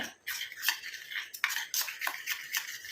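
A spoon scrapes and clinks around a bowl while hair dye mixture is stirred, a series of sharp, close taps and scrapes in an uneven rhythm, with no talk.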